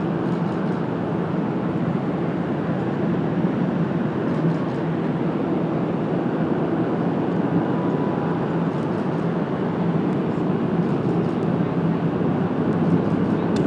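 A Boeing 787 Dreamliner arriving from Munich comes in to land at a large airport on a cloudy day, heard as a steady, loud, low jet rumble that holds constant throughout.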